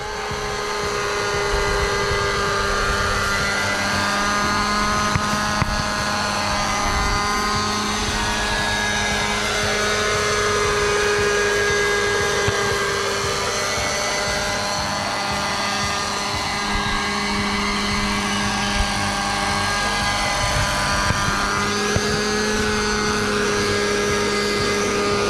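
A nitro RC helicopter hovers steadily at about four to five meters, its engine and rotor giving a loud, continuous high-pitched whine with a deep rotor drone underneath, sustained throughout with slight pitch wavers.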